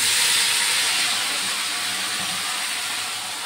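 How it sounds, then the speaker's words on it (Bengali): Rice boiling in a pot on the stove, a steady broad hiss of bubbling steam that holds even and continuous throughout, fairly close and alone with no talking. "ভাত ফুটছে"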